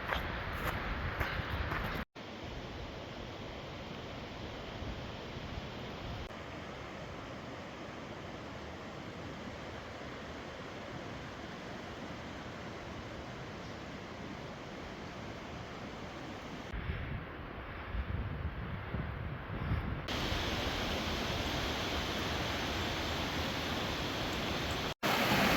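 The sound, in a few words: Fourmile Falls waterfall, Pagosa Springs, Colorado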